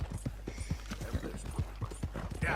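Horse hooves clip-clop in the video game Red Dead Redemption 2, a steady walking rhythm of close thuds with a brief whinny near the end, under quiet game ambience.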